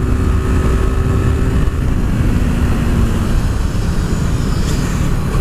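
A KTM RC390 motorcycle on a test ride, its engine droning steadily and loud throughout with heavy wind rush, a constant close roar with a faint tonal whine rising and fading.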